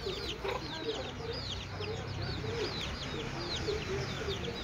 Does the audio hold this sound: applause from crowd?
no